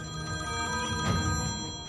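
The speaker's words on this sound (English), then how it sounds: "he'd rung her mobile phone" A mobile phone rings out in the living room of a deserted hotel, its steady electronic ringtone continuous and moderately loud for the whole moment, with no voices over it.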